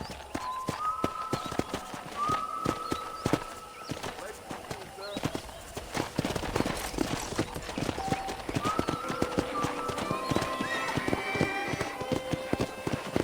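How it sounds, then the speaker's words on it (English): Rapid, rhythmic hoof clip-clops of a galloping horse in the video game Red Dead Redemption, with faint tonal sounds and voices in the background. "I picked out a fine horse for you."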